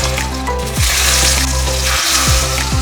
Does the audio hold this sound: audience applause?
no